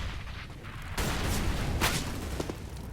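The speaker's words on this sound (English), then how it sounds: "There's a grenade." Grenade in Counter-Strike on Cobblestone bursting with a sudden rumbling blast that decays over a couple of seconds, a sharper crack following, mid-distance.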